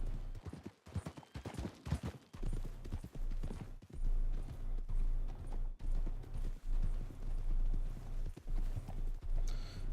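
A horse's hooves clip-clop steadily in Red Dead Redemption II, a continuous rhythmic gait close up, with louder busy bursts early on and no talking.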